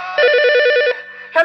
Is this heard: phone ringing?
yes